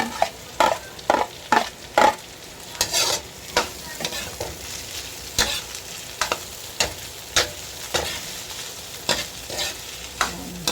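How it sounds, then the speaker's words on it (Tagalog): Luncheon meat frying in a pan for carbonara, a steady sizzle broken by regular sharp scrapes and clicks of a utensil stirring, close and fairly loud over about ten seconds. "Pwede na nating ilagay ang ating luncheon meat."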